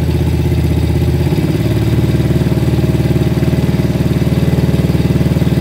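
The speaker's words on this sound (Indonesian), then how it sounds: "dibuka lagi sampai RPM nya meraung paling tinggi" A Honda Grand motorcycle engine runs loud and close during carburetor adjustment, its steady idle rising partway through to a higher, faster-pulsing rev that holds to the end.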